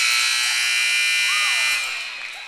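An electronic buzzer sounds at a high school boys' basketball game at the end of a half, a loud, steady, piercing tone held for nearly two seconds before tapering off.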